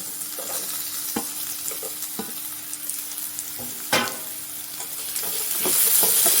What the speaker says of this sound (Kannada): ಈಗ ಮಾವಿನಕಾಯಿ ತುರಿದಿರೋದು ಮತ್ತು ಕಟ್ ಮಾಡಿರೋದು ಹಾಕ್ಕೊಳ್ಳೋಣ